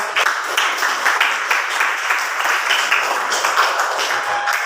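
A classroom of students claps for their classmates, a dense, lively round of applause close by that carries on steadily with uneven individual claps.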